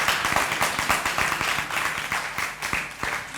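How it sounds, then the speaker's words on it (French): Applause from the audience at a school student-journalist festival event, greeting a guest in a performance hall: steady crowd clapping with dense, overlapping individual claps throughout, moderately loud and fairly close. "On applaudit pour Fred Beaupré."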